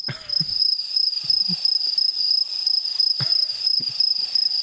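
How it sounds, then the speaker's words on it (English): A crickets chirping sound effect gives a continuous, fairly loud high chirring with a fast pulsing rhythm, heard alone with only a few faint low thumps. "Or am I gonna have to do crickets?"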